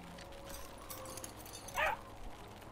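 A dog in the video game Yonder: The Cloud Catcher Chronicles gives one short, yelping bark over a quiet ambient background of the game world.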